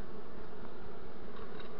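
A dense, continuous buzzing of many bees from a swarm with several queens close at hand, steady and unbroken throughout.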